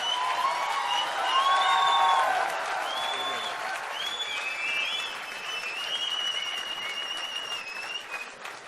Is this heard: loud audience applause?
yes